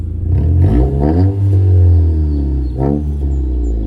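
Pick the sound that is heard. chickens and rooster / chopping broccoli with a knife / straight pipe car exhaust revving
straight pipe car exhaust revving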